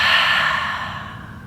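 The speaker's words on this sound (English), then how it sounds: "And exhale through your mouth, H-ah." A single loud, breathy exhale through the mouth during a guided yoga breathing exercise, close and unaccompanied, fading steadily over about a second and a half.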